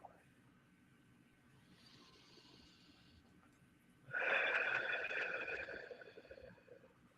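Guided deep breathing during a meditation session: a soft, faint breath first, then a louder, close, breathy exhale lasting a couple of seconds before tapering off, with no talk.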